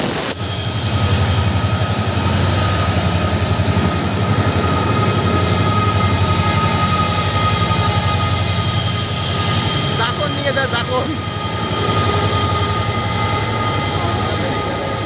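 A train with its headlights on in daylight runs along a rail line on a journey toward a hilltop, giving a steady, loud, continuous rumble of wheels and carriages throughout, with brief higher rattles near the end.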